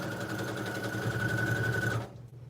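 A sewing machine runs a quilt block through at a steady, fast whirring pace with a constant hum, then stops abruptly near the end, leaving quiet room tone.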